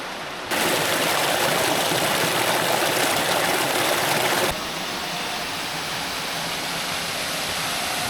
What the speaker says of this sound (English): Here's the first waterfall,